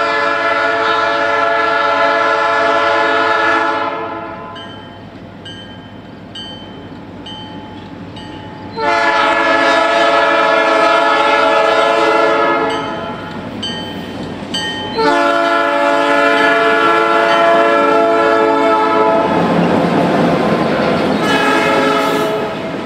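An EMD-powered Chicago, Fort Wayne & Eastern freight train passes loudly at dusk through Gary, Indiana, its horn sounding in long sustained blasts with brief pauses between them, over the steady rumble and rail noise of the passing cars.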